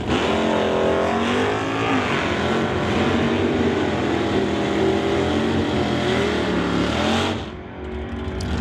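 A Dodge Dart and a Chevrolet Malibu run a quarter-mile pass at a bracket drag race, their engines roaring loud and sustained under hard acceleration with rising pitch, then fading off sharply near the end.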